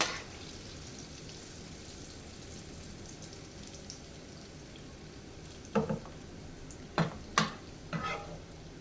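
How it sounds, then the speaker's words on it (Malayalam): Fish frying in hot oil in a pan for homemade fish pickle, a steady low sizzle hissing throughout, joined near the end by a few sharp louder crackles and spatters, close up and fairly quiet with no voices. "നമ്മൾ ബാക്കിയുള്ള മീനും കൂടെ വറുക്കാൻ വേണ്ടി എണ്ണയിലേക്ക് ഇട്ട് കൊടുത്തിട്ടുണ്ട്"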